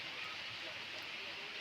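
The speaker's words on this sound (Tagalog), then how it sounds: "Malakas talaga yung ulan dito." Heavy rain pours steadily over an open rice field, a dense even hiss that fills the space without any break.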